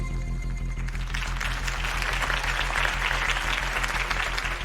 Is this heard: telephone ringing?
no